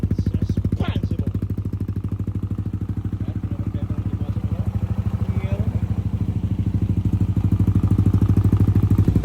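A motorcycle engine freshly rebuilt with a new head and crankshaft idles steadily and close by, a fast even pulse throughout that swells slightly louder toward the end, with voices talking over it.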